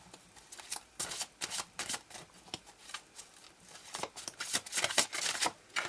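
Tarot cards are shuffled close up in a series of quick papery riffles and slides, bursts coming irregularly with short pauses between them, no voice over them.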